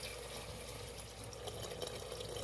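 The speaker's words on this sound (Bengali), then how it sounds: "এখন পানি দিতেছি" Water pours steadily into a pot of pigeon meat curry, a continuous close splashing rush with no talking.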